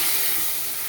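Water poured over spiced pointed gourd in a hot pan makes a steady, loud steamy hiss that holds evenly close up for under a second, with no talking.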